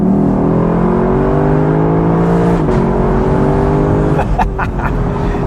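Lexus LC 500 convertible engine revving loudly close up, a deep, steady droning note that climbs in pitch, then breaks off into sharp crackling pops and bangs near the end.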